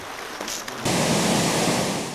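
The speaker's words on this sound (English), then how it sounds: "Water flows toward the ocean." Meltwater from melting snow and ice running toward the sea in Svalbard, a steady broadband rush that grows louder and fuller after a brief quieter opening, continuous and close with no voices.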